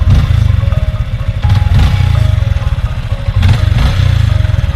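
A Yamaha Sniper 155R motorcycle engine, about 2 years and 9 months old with stock ECU and tensioner, runs loudly up close with a dense low pulsing note that swells and eases slightly over several seconds, plus a faint whine and clatter.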